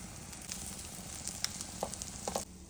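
Chana kabab patties shallow frying in refined oil give off a steady, soft sizzle with a few brief crackles and pops, close by and alone.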